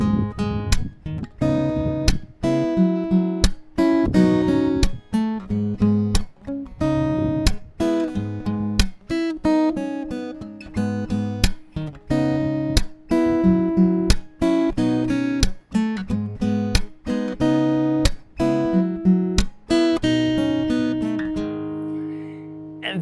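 A guitar plays an Afrobeat chord pattern and melody, with crisp plucked notes in a steady, syncopated rhythm running about twenty seconds, close and clear, with no talking.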